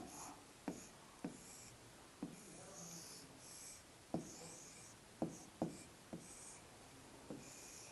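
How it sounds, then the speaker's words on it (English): Pen scratching on paper while a circuit diagram is drawn, heard as a series of short, faint strokes and taps at uneven intervals, close by and quiet, with no talking. "Now let me draw a circuit diagram here."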